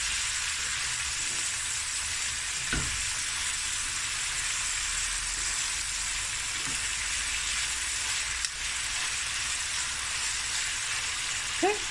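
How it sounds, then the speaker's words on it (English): Garlic and ginger fry in a pan for an oven-baked fish biryani, giving a continuous soft, hissing sizzle with a few faint utensil clicks, steady throughout and unaccompanied by speech. "now I'm going to fry this for about 5 minutes"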